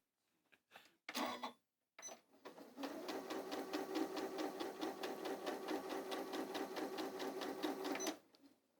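A sewing machine runs a straight line of stitching at steady speed for about five seconds, with a close, even rapid whirr. A few short bursts and handling noises come before it starts.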